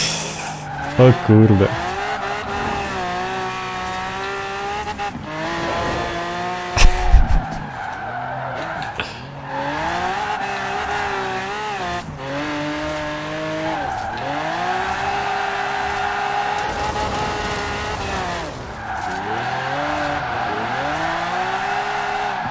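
A Jeep CJ5 with a 7-litre V8 on off-road tyres drifts in Forza Horizon 4, its engine droning and rising through repeated long tyre squeals. Someone talks over it.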